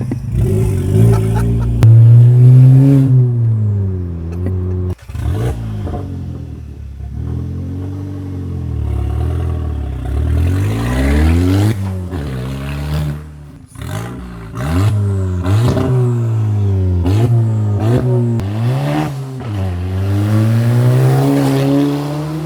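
Loud revving from a VW Polo GTI fitted with a straight downpipe and no exhaust, rising and falling through repeated sharp throttle blips and sustained high-rev pulls, close and alone.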